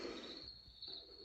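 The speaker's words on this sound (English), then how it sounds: "A little bit of crickets." Crickets track from a 4-in-1 Bluetooth speaker and white noise machine, a thin high steady chirring over a soft hiss, faint and brief, no voices.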